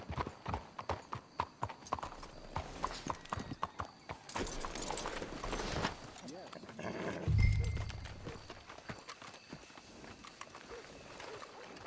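Horse hooves clip-clopping in the Western video game Red Dead Redemption 2, a steady nearby trot that slows and fades, with a brief neigh and game character voices talking over it.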